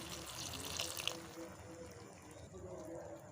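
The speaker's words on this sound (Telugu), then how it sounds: "ఈ టమాటా అయితే మంచిగా ఉడకడానికి వాటర్ని కూడా యాడ్ చేసుకోవాలి" Water runs and splashes into a cooking pot of tomato curry, a short pouring stream with a faint trickle that tapers off, heard quietly with low background noise.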